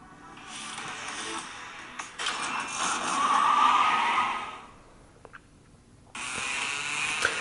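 Engine roar and skidding from a mobile car racing game set in New York, swelling loudly in the middle, dropping away briefly, then rising again.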